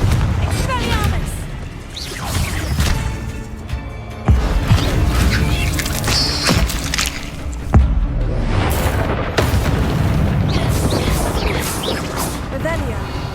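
Blasting spells in Hogwarts Legacy, with sharp crashing bursts and booms landing among whooshing spell effects, close and loud throughout, mixed with scattered game voices.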